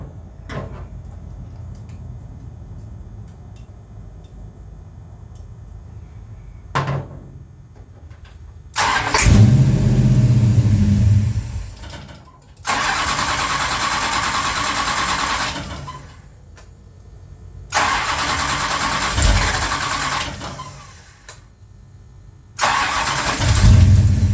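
A Plymouth Road Runner V8 engine with an idle problem cranks and fires repeatedly, each start rising into a loud, rough idle for a few seconds before cutting out, with quiet gaps and faint clicks between attempts.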